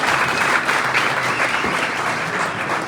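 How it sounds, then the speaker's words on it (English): Banquet audience applauding the catering staff after a meal, a full room of steady, loud clapping sustained throughout without speech. "Let's give a round of applause to the staff."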